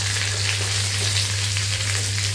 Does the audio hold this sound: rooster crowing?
no